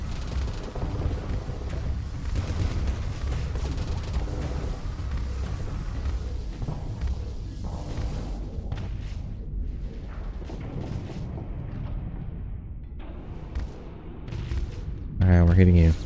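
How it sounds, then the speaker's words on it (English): Ship weapons firing in the space game Starsector, booming blasts and rumbling energy discharges under constant heavy noise, with a loud burst near the end. "So we just fire and then high energy focus."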